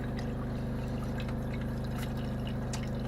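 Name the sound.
water flushing antifreeze out of RV drain traps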